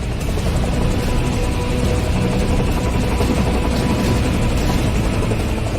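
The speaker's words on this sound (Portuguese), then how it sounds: "Pousar um helicóptero em um navio é um elemento incrivelmente difícil na aviação" A helicopter landing on a cruise ship deck during a storm, its rotor and engine roar loud, dense and unbroken throughout, with no voices.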